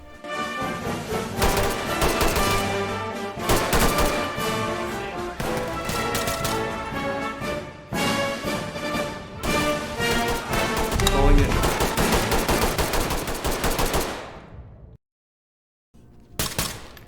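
AK rifle gunfire in the tactical shooter game Ready or Not, dense bursts of rapid shots in several long strings with short gaps, loud and close, ending in a brief silence before a final burst.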